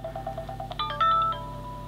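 A brief electronic ringtone previewed on a Google Nexus 5 phone plays a quick run of rising, bright melodic tones, close and clear over a low background hum.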